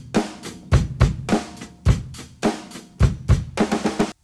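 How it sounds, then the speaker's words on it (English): A two-measure drum intro for a ukulele play-along, with punchy kick and snare hits in a steady beat, close and loud, no voices. "The song starts with a two-measure drum intro."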